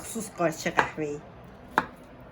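A knife chops mushrooms for wonton soup on a cutting board: a single sharp, close knock that follows a brief stretch of someone talking.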